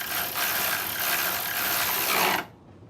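A ratchet with a 12 socket tightens a car battery terminal on a Camry, producing a steady close rasping churn for about two and a half seconds before stopping abruptly.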